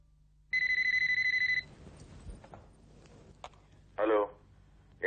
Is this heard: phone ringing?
yes